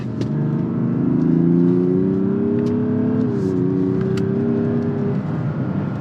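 A Mazda CX-60 with the 3.3-litre diesel engine pulls hard through the gears, its steady droning growl rising in pitch, dipping briefly at a shift, then climbing again, heard from inside the car with no talking.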